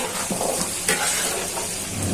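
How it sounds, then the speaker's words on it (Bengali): Potatoes fry with onions in a pan with a loud, continuous sizzle, broken by a couple of quick stirring clatters. "এখন আলুগুলো দিয়ে দিচ্ছি। আলুটা ভেজে নিব।"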